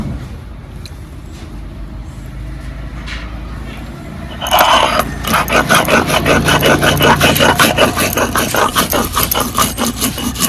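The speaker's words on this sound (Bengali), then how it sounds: "ধনে পোস্ত লঙ্কা রসুন গোলমরিচ এবার জল দিয়ে বেটে নেব" Coriander, poppy seed, chilli, garlic and pepper are ground with water; after a quiet stretch of low background noise, a loud, pulsing grinding roar kicks in and continues steadily.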